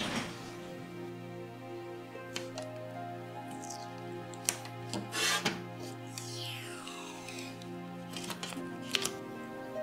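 Protective film being peeled off the glass front of a wall clock made with glass cubes, a faint, close rasping and crinkling with a few sharper pulls and ticks over a quiet hum.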